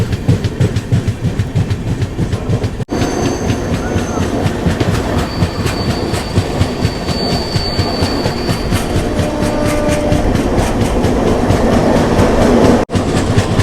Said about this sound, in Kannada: ಮತ್ತು ನಮ್ಮ ಟ್ರೈನು ಚೆನ್ನೈ ಕಡೆಯಿಂದ ಬರ್ತಿದೆ